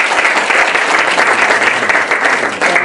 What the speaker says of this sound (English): and so I'd like to give them a big round of applause.